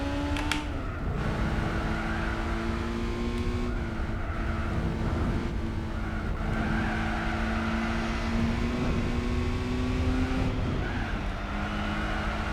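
Race car engine in Gran Turismo 4 racing game, droning steadily as the pitch drops and climbs through several braking and acceleration phases, with tire noise beneath; continuous and loud, with no voices.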